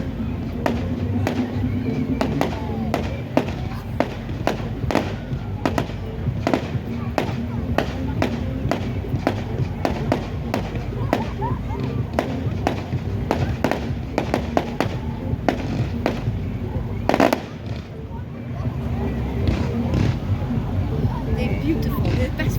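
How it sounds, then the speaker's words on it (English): Bonfire Night fireworks go off in a dense, continuous barrage of sharp cracks and booming thumps over a long stretch, loud and nearby, while people talk and react throughout. "They're the best fireworks I've done so far."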